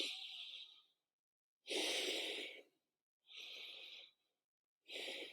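Slow, deep breaths in and out, four long airy breaths separated by silent pauses, close and clear with no talking.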